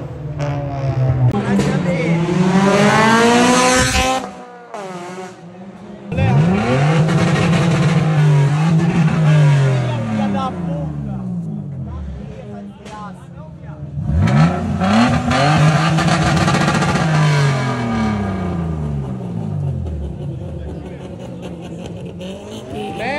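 A car engine accelerates and revs in repeated rising, roaring sweeps. It stays loud and close with short lulls between pushes, and voices are heard alongside.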